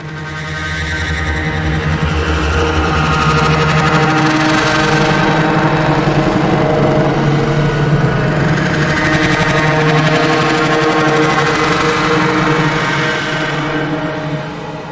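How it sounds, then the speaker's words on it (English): A loud, steady droning texture of layered synthesized resonator tones hums continuously, like a deep engine-like chord that swells slightly in the middle. "Let's hear all the resonators together."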